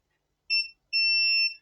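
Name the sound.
multimeter continuity test beep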